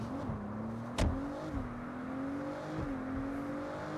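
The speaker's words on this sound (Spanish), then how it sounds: "¿No te gusta este coche? Buscamos otro." A car's engine hums steadily while driving in the Saints Row video game, its pitch rising and dropping through a few gear changes, with one sharp knock partway through.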